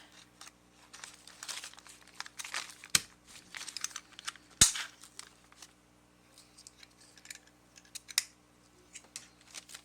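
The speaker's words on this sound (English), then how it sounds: "I punched out a circle. This is a circle punch." A handheld circle punch cuts a disc from wrapping paper, two sharp snapping clunks standing out amid close crinkling and rustling of paper, quiet otherwise.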